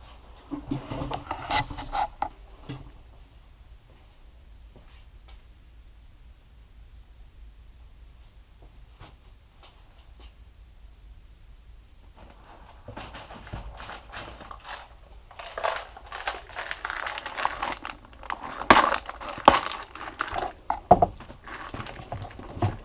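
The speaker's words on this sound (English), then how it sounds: "guess I'm going to take the Dremel tool, see if I can get it out that way." Dremel rotary tool grinds at a Keihin FCR carburetor part in short, intermittent bursts, close and fairly quiet, separated by a long pause with near silence.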